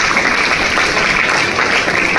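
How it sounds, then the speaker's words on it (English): Audience at a public tribute event applauding, a dense continuous wash of many hands clapping, loud and even for the whole stretch with no voices standing out. "A big round of applause for that."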